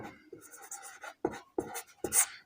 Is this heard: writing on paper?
yes